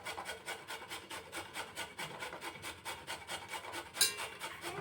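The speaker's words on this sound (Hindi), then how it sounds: "तो जो बड़ा वाला छेद होता है ना, इससे हमें कद्दूकस करना है ऐसे" A carrot rubs rhythmically across the large holes of a grater in quick, evenly spaced raspy strokes, close and fairly quiet, with a single sharper scrape near the end.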